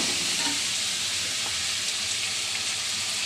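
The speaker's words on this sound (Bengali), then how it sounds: "চিংড়ি মাছটা দিয়ে দেবো এর মধ্যে" Shrimp dropped into a pan of taro and potato curry, giving a steady, loud sizzle and frying hiss that stays even throughout, with no talking.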